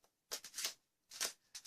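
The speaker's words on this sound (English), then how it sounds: "some beautiful shuffling going on there" A deck of Magic cards being riffle-shuffled at a tournament table, with three quick crisp bursts of flicking cards separated by short pauses, close and clear.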